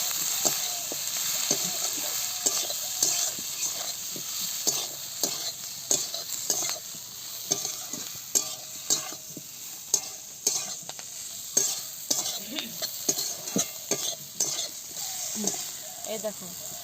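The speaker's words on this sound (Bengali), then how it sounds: "এবার সব কিছুকে খুব ভালো করে কষিয়ে নেব।" Potatoes and onion stalks with turmeric, cumin, coriander and chilli powders stir-fried in a pan, heard as a constant close sizzle broken by frequent rhythmic scraping strokes of a spatula.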